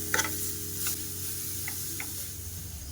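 Grated beetroot and carrot frying in a pan, a steady close sizzle with a low hum underneath and a few faint stirring clicks, no speech.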